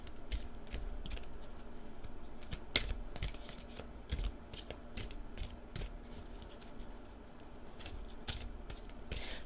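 Tarot cards from the Marchetti deck are shuffled close by, a steady run of quick papery riffles and crisp snaps that keeps going without pause, heard alone with no voices.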